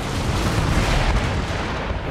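Artillery and rocket batteries firing in Empire: Total War, a dense, continuous rumble of booming shots and bursts rolling steadily throughout at a loud, even level.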